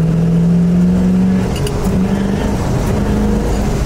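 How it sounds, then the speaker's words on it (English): A small-block V8 work truck engine runs in a steady, loud, close drone with a low throbbing hum and slight shifts in pitch, no talking over it. "You hear that? You hear that small block?"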